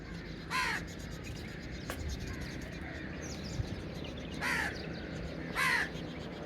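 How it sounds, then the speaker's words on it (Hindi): Crows caw outdoors, three distinct calls spaced apart over a low background rumble, with a sharp tap in between. "ये देखिए परिंदे आ चुके हैं जी सारे"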